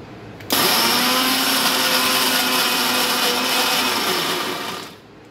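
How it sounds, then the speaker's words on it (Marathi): A kitchen mixer grinder whirs loud and steady, grinding mango with sugar in its jar, starting abruptly after a brief moment, running at a constant pitch for about four seconds, then winding down. "ह्याच्यामध्ये आपल्याला साखर आणि आंबा घालून ग्राइंड करून घ्यायचं आहे"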